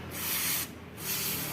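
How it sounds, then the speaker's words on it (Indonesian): Carburetor or injector cleaner sprayed onto a Honda Supra X 125 injection motorcycle part, producing a steady close aerosol hiss in two bursts separated by a brief pause. "Cukup kita semprotkan karbu cleaner atau injektor cleaner"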